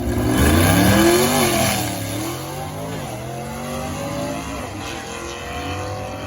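A 1955 Chevy 150 two-door utility sedan drag car with a 265 small block V8 revs loudly, its pitch climbing and falling in a couple of sharp blips before settling into a rough, lumpy idle.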